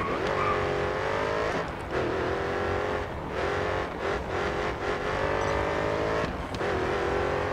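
In the racing game GRID Autosport, a race car engine roars loudly and continuously, revving up and down through gear changes as the car accelerates with brief dips between shifts.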